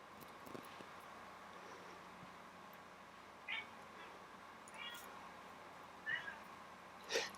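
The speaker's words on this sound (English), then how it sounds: "Sorry if you guys hear my cat. He's asking me to feed him." An old cat, fifteen to eighteen years of age, meows to be fed: three or four faint, short meows spaced apart in a quiet room, with no one talking.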